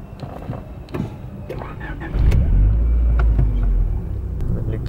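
Volkswagen Golf 3 engine cranking and catching, a loud low rumble that starts about two seconds in and settles into a steady idle, after a few clicks and bumps, with faint talk at the start.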